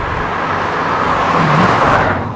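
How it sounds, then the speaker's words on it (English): A Leyland prototype car with an aluminium 4.4 litre V8 drives past with a steady, fairly loud engine drone and road noise, the engine note rising briefly before easing off. "I tell you what, it's got some poke, this little engine."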